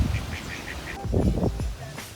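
Ducks quack in a short series of faint nasal calls outdoors on a trip in Hawaii, followed by louder bursts of nearby people talking over them.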